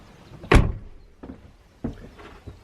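The door of a Fiat Ducato van under conversion is moved, a loud close thunk followed by several softer rattling knocks and bumps, near and without talk.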